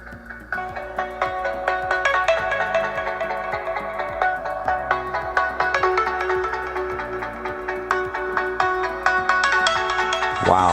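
Ringtone melody from the bottom-firing speaker of an LG G7 ThinQ phone resting on a flat surface, a bright, repeating electronic tune with a steady pulsing beat, loud and clear without talk.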